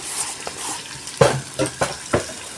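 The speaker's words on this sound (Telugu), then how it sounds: "సో ఇవన్నీ దగ్గరికి కలుపుకోవాలి దగ్గరికి అయినంత వరకు కలుపుకోవాలి" Andhra-style pumpkin curry is stirred and mixed in a pan: several distinct, close scraping strokes of a spoon against the pan at an uneven rhythm over a light background sizzle, with no talking.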